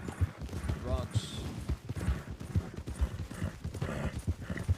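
Horse hooves galloping in a video game, a rapid steady clip-clop beat running throughout, close and prominent, with game sounds and someone talking over it.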